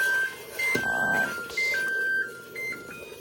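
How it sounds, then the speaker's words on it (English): A kitchen timer set for one minute while violet jelly boils on the stove gives several short electronic beeps in an uneven pattern, clear and close, with no talking. "Go ahead and set your timer, 1 minute."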